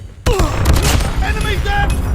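Loud, close gunfire crackles in a shooter video game, a sudden burst of shots and booms mixed with shouted game voices and radio-style callouts.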